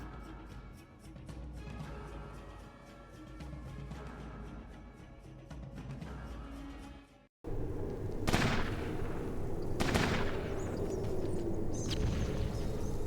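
Gunfire in Fallout Tactics: Brotherhood of Steel, sharp shots cracking out in the second half after a steady stretch of background game sound.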